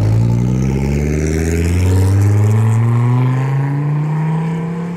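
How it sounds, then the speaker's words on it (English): A Gen 4 Dodge Viper engine revs loud and close at a car meet, a deep rumbling tone climbing steadily in pitch through one long sustained pull. "A Gen 4 Viper, this thing is so sick."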